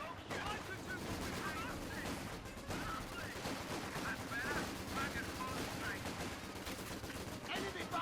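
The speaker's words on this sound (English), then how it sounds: "In this case, Vickers pinned down the Chromus gun down there by Redxwings Vickers" Vickers machine gun fire in Company of Heroes 2, rapid bursts of automatic gunfire mixed with other battle noise, continuous and fairly dense across the whole stretch.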